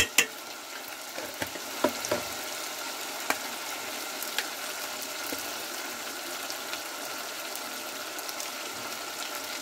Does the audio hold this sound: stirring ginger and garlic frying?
yes